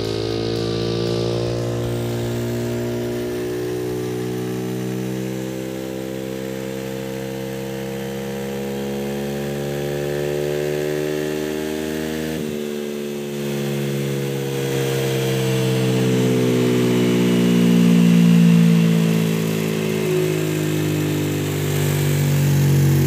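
Automatic scooter engine with a 2500 rpm centrifugal clutch spring fitted, running continuously on a test, a steady buzzing drone whose pitch holds, dips briefly and then climbs as revs rise toward the end, close and loud with no talk.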